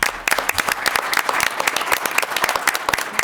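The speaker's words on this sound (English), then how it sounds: "and I want to give them all a round of applause." An audience at a city council meeting claps steadily and fairly loudly throughout, a dense crowd applause with scattered sharper claps and no voices standing out.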